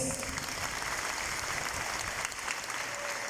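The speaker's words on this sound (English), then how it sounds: "Let us give our teachers a round of applause." Sustained applause from the audience at a senior high school graduation, honouring the teachers; steady, moderately distant clapping from many people throughout.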